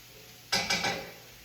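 Brussels sprouts and sweet potato hash scraped and stirred in a pan, a single short burst of scraping and clattering rising from a quiet kitchen background, then fading.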